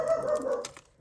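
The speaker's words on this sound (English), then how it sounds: "Sorry guys, dog's barking." A dog gives a short, muffled bark or two from another room indoors, brief and fairly faint.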